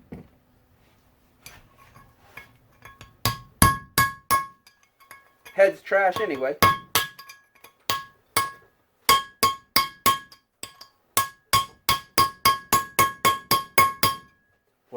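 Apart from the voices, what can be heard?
hammering out a stuck engine valve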